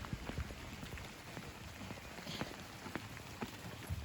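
Gentle rain falls on a garden of raised beds, scattered drops ticking and tapping irregularly on nearby surfaces over a soft, steady patter.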